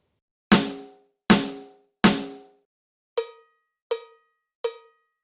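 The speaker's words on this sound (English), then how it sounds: "choose an entirely different sound for the rim, in this case, a cowbell." A Roland TD-07KV electronic drum pad sounds three snare hits on its head, then three lighter, evenly spaced rim strikes that trigger a clear, ringing cowbell tone, each fading quickly.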